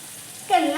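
Batter fritters dropped into hot oil at a village cooking spot, puffing up while stirred; quiet at first, then a sudden close burst of bubbling sizzle that carries on to the end.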